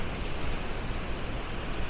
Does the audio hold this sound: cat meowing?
no